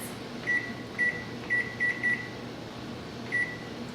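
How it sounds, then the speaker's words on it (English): Kitchen timer emitting short, sharp electronic beeps as it is set, several in quick succession and then one more after a pause, over a quiet steady room hum. "I'm gonna set my timer for 10 minutes."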